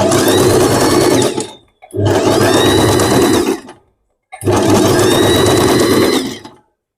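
A sewing machine stitches lace onto a folded saree edge in three loud, close bursts, each lasting about two seconds and separated by brief silences.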